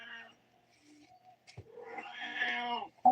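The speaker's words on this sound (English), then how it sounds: "Okay, quiet, cat." A cat meows loudly indoors, a drawn-out caterwauling cry near the end of a quiet room, with a few shorter, fainter vocal sounds before it.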